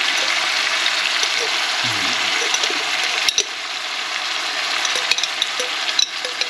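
Onions frying in a pan for Filipino kare-kare stew give a steady, fairly loud broadband sizzle that runs throughout, with a few sharp clicks and a brief low voice murmur partway through.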